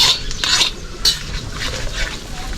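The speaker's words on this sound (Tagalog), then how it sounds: "Mekos muna mga karabas hanggang sa medyo fry na yung ating bawang." A utensil scrapes and clinks in a pan as garlic fries, a few quick metallic stirring strokes over a faint sizzle, with no talk.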